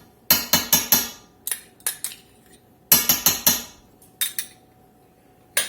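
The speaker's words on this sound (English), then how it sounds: "the first thing we're going to do is get us some shortening in this skillet" Metal clinks sharply against a cast iron skillet as shortening is spooned in, several quick clusters of three or four close, ringing taps separated by short pauses, with no talk.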